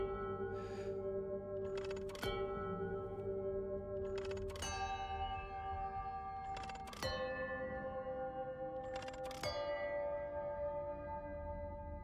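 A bell rings in the puzzle game Chants of Sennaar, struck four times at steady intervals of about two and a half seconds, each clear chime ringing out over a sustained musical drone.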